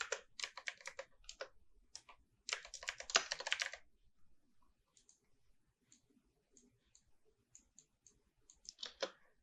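Quick bursts of keystrokes on a keyboard while entering text for a graphic design, close and clicky, in two dense flurries followed by sparse scattered taps and a final short run.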